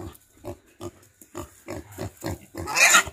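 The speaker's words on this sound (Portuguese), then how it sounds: "é assim que o sertanejo carrega porco" A pig being carried on a farm gives a quick run of short, rhythmic grunts, then breaks into a loud, shrill squeal, close and alone.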